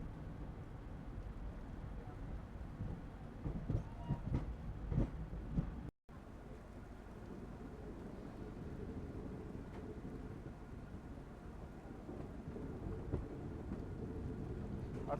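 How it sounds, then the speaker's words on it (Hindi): Heavy rain drums steadily on a moving Kanchanjunga Express train near New Jalpaiguri, a dense low rumbling wash with faint intermittent voices, broken by one brief dropout before the same rain and rail noise return. "बढ़िया बारिश हो रही है"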